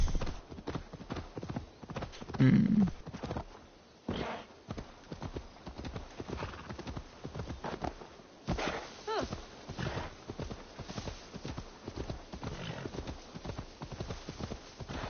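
Horse hooves clip-clop in a steady rhythmic gait while riding toward a river in the video game Assassin's Creed Valhalla, with a brief neigh, moderately loud beneath intermittent game dialogue and commentary.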